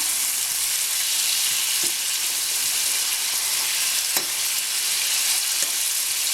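Fish and potatoes sizzle steadily in a pan, a continuous close frying hiss with a few faint clicks of stirring utensils.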